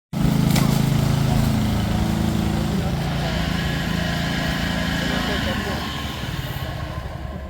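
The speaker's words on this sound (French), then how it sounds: "toi j'ai vu que tu as mis la lame en route, j'ai vu que tu avais avancé" A lawn mower running with its blade engaged, a loud, steady engine drone that starts abruptly and holds close by, easing slightly in level toward the end.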